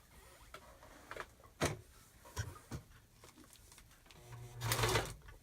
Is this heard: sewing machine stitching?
yes